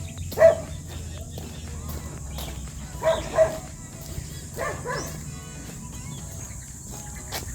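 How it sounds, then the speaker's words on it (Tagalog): A few dog barks ring out at a distance, a single one early and then a quick pair, with faint sporadic barking in the background over steady low hum. "Dito maraming aso eh."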